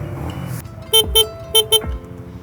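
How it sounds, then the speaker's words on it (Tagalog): A Honda Winner X 150 motorcycle horn honks four short times in two quick pairs, high and low tones, loud and close, over a low idling engine. "Ito yung busina niya, high and low, tas passing."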